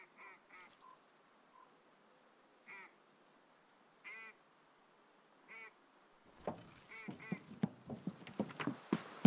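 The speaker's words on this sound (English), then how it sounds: "Quack, quack, quack, quack." Duck quacks come as short, nasal bursts at spaced intervals during an Escape From Tarkov game session, followed by a flurry of sharp clattering knocks near the end.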